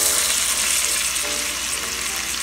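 Onions sizzle steadily in melted butter for sisig, a continuous bright frying hiss close up that holds evenly throughout with no voices.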